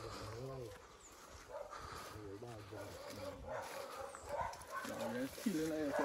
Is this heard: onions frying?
no